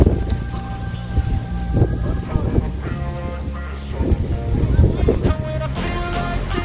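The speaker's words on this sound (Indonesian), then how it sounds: "semua layang-layang mengalami terjangan angin yang begitu kuat" Strong wind roars steadily and loudly across an open field where big kites are being flown, a continuous gusty rush with some voices faintly underneath.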